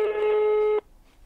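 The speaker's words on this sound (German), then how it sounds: "Da können wir anrufen." A telephone ring tone on an outgoing call: one steady electronic tone lasting under a second, loud and clean, then cutting off to near silence.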